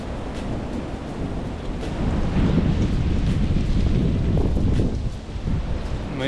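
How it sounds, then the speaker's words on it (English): Wind gusting through swaying trees beside a lake on a Northern Michigan backpacking trail, a broad continuous rushing roar that builds and stays strong, with wind buffeting the microphone and no talking. "wind's making me nervous"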